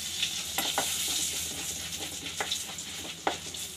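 Green chilies sizzle and crackle in hot oil in a pan, with butter, beet and mustard seeds already added, while a spoon scrapes and stirs in occasional sharp taps over a steady hiss.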